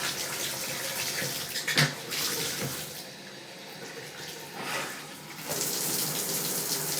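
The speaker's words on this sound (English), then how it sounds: "We're gonna turn on the water. It's got really good flow here." Water runs from a newly installed shower and bathtub faucet with strong flow, a steady broadband rush that surges in bursts and continues close by without talk.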